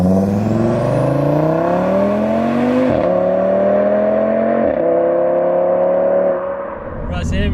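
A 650 BHP stage 3 Audi RS3 with a full Milltek exhaust pulls hard, its engine note climbing through several gears with sharp dips at each shift, loud and close from inside the car.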